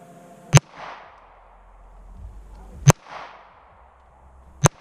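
A CZ P07 pistol fires three sharp, loud gunshots outdoors, spaced about two seconds apart, each followed by a short echoing tail.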